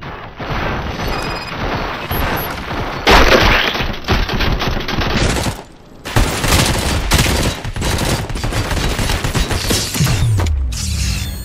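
Loud, close gunfire fills a firefight in the video game RoboCop: Rogue City: rapid automatic bursts and heavy booming shots pile over one another with metallic mechanical clanks, broken only by brief pauses.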